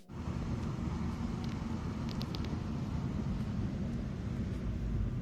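A BMW E93 convertible drives along at steady speed, its engine and road rumble a constant, loud low roar with wind noise over the top and no pauses.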